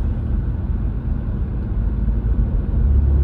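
Steady low rumble of a BMW F Series car cruising at 40 to 45 mph after a driveline vibration fix, smooth continuous road and engine drone heard from inside the cabin.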